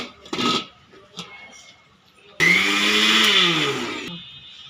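A mixer grinder whirs loudly, grinding henna leaves in a village kitchen, starting abruptly after some softer handling noises and running in a short steady burst before winding down.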